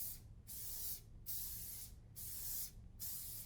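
Four long hissing bursts from an aerosol spray can held upside down, misting a fixative coat onto a pastel artwork outdoors, each blast separated by a brief pause, steady and close.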